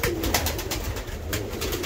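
Pigeons in a dovecote coo in soft, repeated, rhythmic calls over steady background noise, close by and with no talking.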